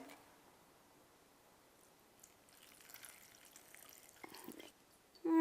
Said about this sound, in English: Pour a little bit of milk.